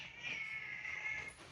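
A cat gives a single drawn-out, faint meow lasting over a second, steady and thin against quiet background.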